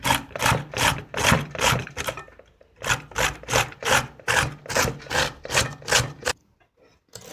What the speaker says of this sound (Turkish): Şimdi soymuş olduğum kerevizimi de rendeliyorum.